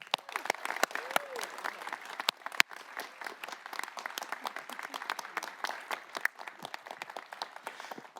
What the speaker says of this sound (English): Please join me in a round of applause and a recognition and a presentation to Nick Berardino.